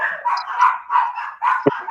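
Dogs bark loudly and close by in a home during a live stream, several sharp barks in a row with a short high yelp near the end.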